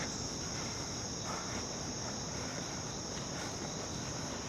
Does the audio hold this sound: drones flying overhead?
no